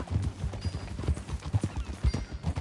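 Horse hooves clip-clop in a quick, steady rhythm during a ride in a video game, close and continuous with no speech over them.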